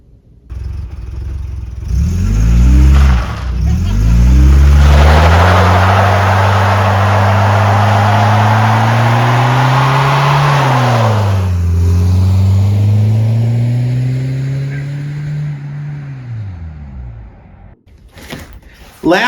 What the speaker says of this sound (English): Let's do a burnout with this thing.